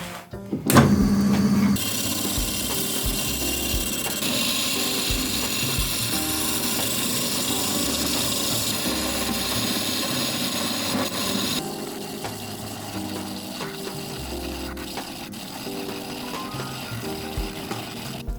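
Scrap wood spins on a lathe as a tenon is cut, a loud, continuous rough scraping and rumble of the gouge against the workpiece, shifting in tone partway through, after a brief motor start-up hum at the beginning.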